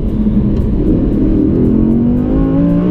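An Audi R8 V10 RWS accelerates hard in one gear, its engine note rising steadily in pitch as a loud, close, continuous roar from inside the car.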